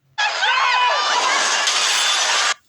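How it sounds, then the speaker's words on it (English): A bus crash sound effect: a loud, sustained burst of shattering glass and crunching impact lasting a couple of seconds, then cutting off abruptly. "That sound effect where the bus crashes, that's what I'm trying to look for."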